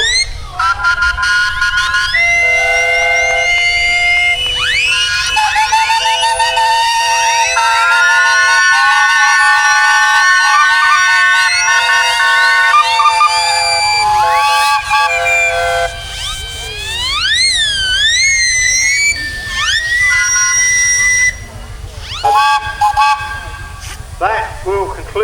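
A steam engine whistle sounds at a tractor festival arena, a long run of sliding, rising and falling tones sustained for many seconds, loud and near, with crowd noise beneath and a brief break before a final blast.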